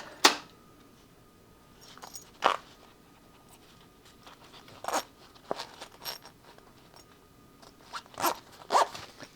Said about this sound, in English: Get the zipper pull on here.